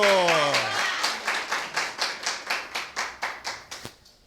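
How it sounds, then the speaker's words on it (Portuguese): A small audience claps in steady, even rhythm for a student presenting his final course project at an institute's Campinas campus, the claps sharp and close, following a brief spoken voice at the start and fading out at the end. "Palmas para o Fábio."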